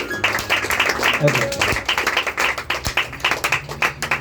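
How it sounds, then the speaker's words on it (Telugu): A church congregation claps together in praise, a dense, steady patter of many hands that runs throughout under a voice speaking over it. "చప్పట్లు కొట్టి ప్రభువును కనపడతాం"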